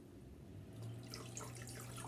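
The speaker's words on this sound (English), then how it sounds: "What I'm gonna do is just dunk it in for 5 seconds at a time." Water splashing as an American Girl doll's hair is dunked into a basin, a brief watery swish and slosh close by with a steady low hum underneath and no talking.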